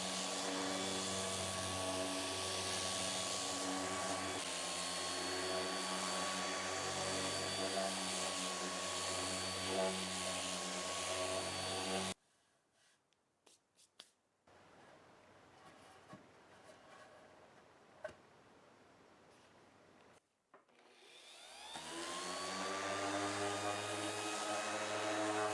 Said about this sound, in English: then I'm going to take a random orbital sander and sand it all flat